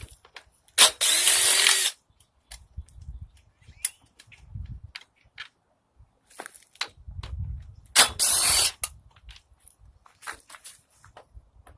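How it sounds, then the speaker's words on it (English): A power impact wrench removes 5/16 bolts from a Bolens lawnmower cover in two loud, short rattling bursts, with clinks, tool handling and shuffling in the quieter gaps between. "I'm going to use my impact just to extract them."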